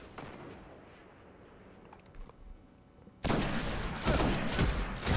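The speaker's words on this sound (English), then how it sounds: "I'm getting shot in the side, aren't I?" Gunfire striking the player in the Destiny video game, a low murmur of distant shots that abruptly erupts into loud, continuous heavy firing close by for the last couple of seconds.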